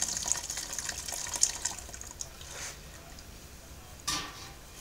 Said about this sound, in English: some more water in, just so it keeps that level above the grain bed